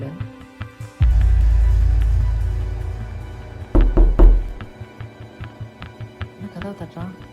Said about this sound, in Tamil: என்ன கதவை தட்டுறான்?